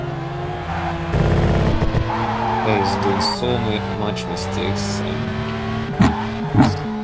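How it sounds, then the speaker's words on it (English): A Formula 1 car in the racing game Assoluto Racing, its engine a high thin whine with shifting revs, joined by other cars and brief tire squeals, while someone talks over it. "that sounds so horrible. It sounds like a mosquito. I don't know if it's this F1 car."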